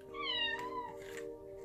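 A house cat lets out a single drawn-out meow that rises and then falls, close by and clear against a quiet room.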